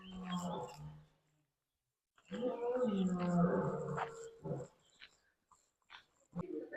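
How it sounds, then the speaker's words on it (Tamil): A lion at the Thoiry ZooSafari in France lets out deep, drawn-out roars and growls in two bursts separated by a pause, heard from a moderate distance. "சிங்கம் கத்துறே கேட்குத"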